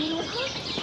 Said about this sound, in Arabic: ببغاء.